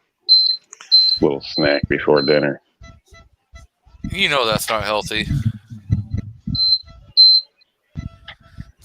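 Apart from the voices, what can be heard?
smoke detector alarm beeping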